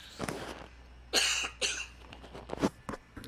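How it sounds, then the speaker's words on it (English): A person coughs a few times in quick succession, close and fairly quiet, with a brief throat-clearing rasp. "I got a cough here,"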